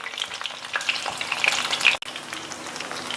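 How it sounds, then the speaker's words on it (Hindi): Eggplant slices frying in hot oil, a continuous close crackling sizzle with small pops and a brief stir or clink midway, moderately loud and steady, no talking. "ये देखें, बैंगन को फ्राई होते हुए 2-3 मिनट हो चुके हैं।"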